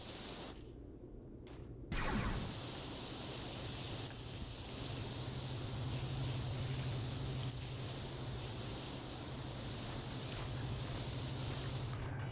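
Steady, loud pressure-washer water spray from the video game PowerWash Simulator, a continuous broad hiss with a brief gap near the start before running unbroken to the end.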